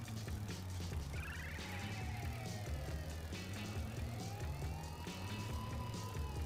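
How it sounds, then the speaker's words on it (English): A police siren dubstep remix plays as music in the video game Bully Scholarship Edition, with sweeping wailing siren tones over a pulsing low beat, steady and fairly quiet throughout. "What's with the cop siren dubstep remix, whatever the fuck I'm listening to?"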